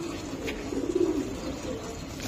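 Racing pigeons at a pigeon farm give a soft, low cooing that swells in the middle, close by against a steady murmur of background noise.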